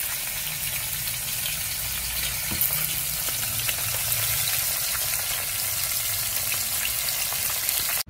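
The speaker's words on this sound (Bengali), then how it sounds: "তো মাছটা এদিকে বসিয়ে দিই, মাছ ভাজাটা হতে থাকুক" Fish frying in a pan on a home stove, a dense continuous sizzle and crackle holding steady and fairly loud throughout, close up with no talking.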